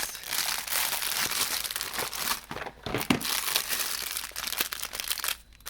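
A plastic bag crinkles and rustles loudly and continuously up close as it is handled and opened, with uneven crackling bursts.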